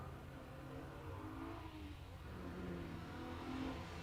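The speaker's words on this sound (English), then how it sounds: "There's that V6 Alfa Romeo engine sound." An Alfa Romeo GTV6 with a V6 engine accelerates away from the start line at a historic sprint meeting. The engine note is a fairly faint, rising rev heard from a distance, with no talk.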